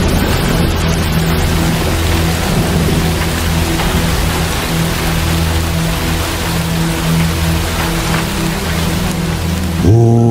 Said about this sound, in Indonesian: Hujan turun di Minggu pagi